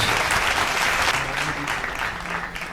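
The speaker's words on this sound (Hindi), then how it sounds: "Come on guys, Tali." An audience at a desi rap battle event claps loudly and continuously, a dense near wash of applause with light crowd noise that tapers slightly toward the end.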